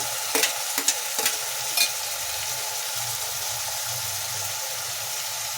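Half a kilo of chopped tomatoes frying in a pan for tomato thokku, a steady sizzle with a few sharp scraping stirs near the start, then continuous frying noise alone.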